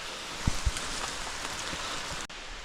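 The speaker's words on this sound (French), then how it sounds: "Là il s'est mis à pleuvoir de fou." Heavy rain pours steadily during a mountain hike around the Puy de Sancy in the Massif Central, a dense close hiss with a couple of dull thumps near the start.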